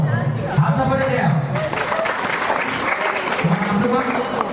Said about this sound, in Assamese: পাঁচ নম্বৰ হাত চাপৰি দিয়া